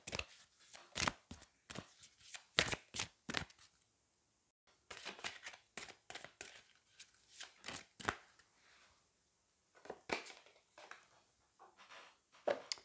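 Oracle cards shuffled and drawn during a heart chakra card reading: crisp riffling and flicking in quick bursts, a short pause, then more clustered shuffles and a few final snaps, close and clear with no talking.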